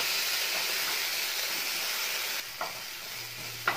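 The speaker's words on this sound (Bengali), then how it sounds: "পেঁয়াজটা একটু ভাজা হয়ে গেলে একটুখানি টমেটো দিয়ে দিচ্ছি।" Onion and tomato sizzling steadily in hot oil in a pan, a loud continuous hiss that drops partway through, with a couple of brief scraping stirs near the end.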